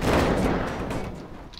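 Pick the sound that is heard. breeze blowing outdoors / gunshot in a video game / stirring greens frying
gunshot in a video game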